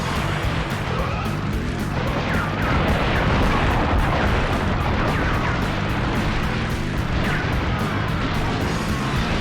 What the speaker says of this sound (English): I love the sound design on breaking through the walls.